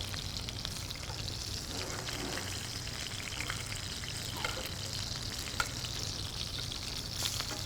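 Steak searing in a hot pan and being basted with beef fat, a steady close sizzle and crackle running throughout with no talking.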